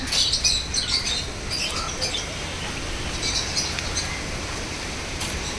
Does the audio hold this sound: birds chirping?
yes